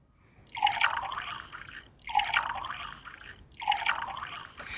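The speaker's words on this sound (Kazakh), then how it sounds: "Кеттік, онда біз бәріміз бір су құйып келейін." Water pours in the Toca Boca video game in three evenly spaced splashing bursts, each a bright gurgling trickle that fades before the next one begins.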